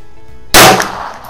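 A single sharp pistol shot from a High Standard Supermatic Citation, loud and close, with a short ringing decay and no talking.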